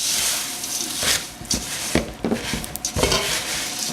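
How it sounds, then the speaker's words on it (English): A sticky mixture of Rice Krispies and marshmallow is stirred with a utensil in a bowl or pan, making close, uneven squelching and scraping strokes about once a second. "you're going to be mixing it now, and it gets quite sticky actually"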